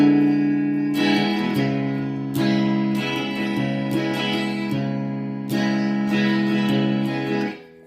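An electric guitar with a distorted, effects-laden tone strums the chords of a song, sustained ringing chords re-struck in a steady rhythm, close and alone.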